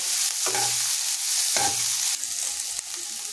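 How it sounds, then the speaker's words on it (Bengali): Vegetables stir-frying in a pan for homemade fried rice, a loud steady sizzle broken by a few sharp spatula scrapes, close up with no talking. "তো এটা দিয়ে এটাকেও ভালো করে নাড়াচাড়া করে ভেজে নেব"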